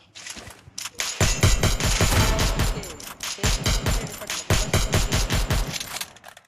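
Gunfire in the video game Free Fire comes in loud, rapid automatic bursts with short pauses between volleys, close and punchy, and a faint voice is heard in the background.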